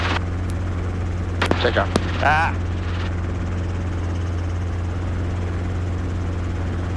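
A helicopter in flight on a windy cross-country training trip, its steady rotor and engine drone continuous throughout, with a brief burst of radio chatter and a voice early on.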